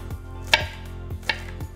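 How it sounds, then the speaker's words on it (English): A knife chopping green onions into little rounds on a board, with a few crisp, evenly spaced cuts close up and no talk. "We keep cutting until we get up to the green."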